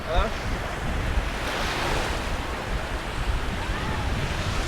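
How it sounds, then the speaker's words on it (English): Steady wind roaring across an open beach shoreline at Alcudia, Mallorca, with surf washing in beneath it and gusty buffeting on the microphone throughout. "As you can see, it's ever so windy today."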